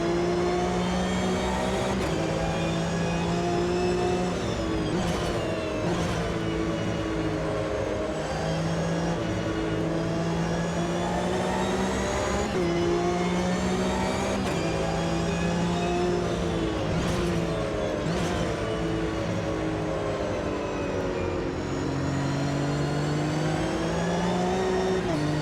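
Racing car engine in Automobilista 2 at Watkins Glen, revving loud and steady through gear changes with rising and falling pitch, several short dips between shifts.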